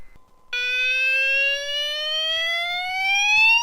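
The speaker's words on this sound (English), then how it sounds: "from a fire alarm system in the garage." A building fire alarm siren in a garage starts abruptly after a brief quiet moment, then sounds as a loud, piercing tone that slowly climbs in pitch.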